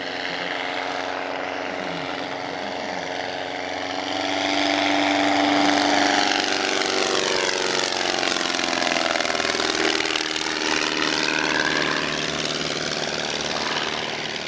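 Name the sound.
Déperdussin replica vintage airplane flying overhead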